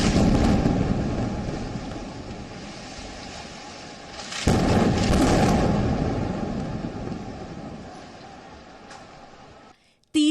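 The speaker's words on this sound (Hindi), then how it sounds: "दूसरा धमाका।" A blast from an Israeli air strike on a Gaza building makes a sustained rumbling roar. A second loud burst surges in midway, then the noise gradually dies down before stopping short.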